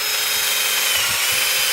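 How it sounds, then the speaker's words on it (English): A cordless drill bores into the soft stem of a tree pear plant outdoors, giving a steady whirring grind with faint rubbing bursts over a constant hiss, short and continuous. "So here's our drill, and tree pear is quite soft, so we go into the plant"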